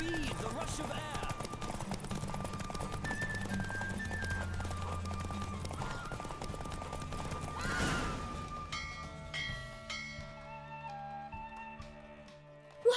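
A racing horse in The Witcher 3: Wild Hunt gallops with rapid hoofbeats and snorts under game music, then gives a loud whinny as the music swells and the pounding fades toward the end.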